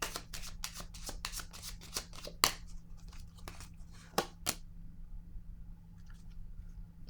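Tarot cards being shuffled and laid down, close and quiet: a quick run of papery riffles and flicks, then a few sharper card snaps and soft placements in a still room.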